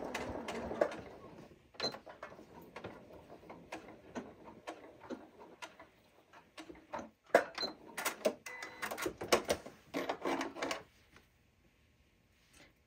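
A sewing machine stitches a reversible fabric bowl cozy, running in bursts of rapid mechanical chatter with short pauses between runs.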